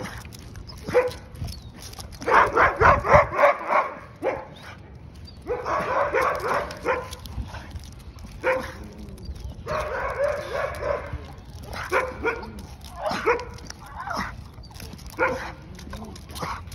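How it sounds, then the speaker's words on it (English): A dog barks outdoors during a festive gathering, sounding in several loud bursts of barking spread across the clip, with someone talking at times in between. "that's a serious dog, man."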